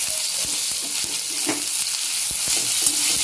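Sliced onions and chopped boiled egg sizzle steadily in a hot pan, with a spatula scraping and tapping the metal in a loose, repeated rhythm, close and alone without talk.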